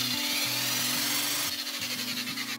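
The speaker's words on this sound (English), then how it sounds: "so I marked and drilled out a load of holes" A power drill bores holes through thin 6mm hardboard, a steady close whine of the motor with the pitch shifting as the bit cuts through the board.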